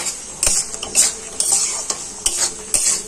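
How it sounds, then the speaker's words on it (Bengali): A spoon scrapes and stirs masala for prawn curry in a wok, with repeated sharp metallic clinks and a steady sizzle of frying underneath, close and fairly loud. "এবার আস্তে আস্তে মশলাটা কষাতে থাকবো।"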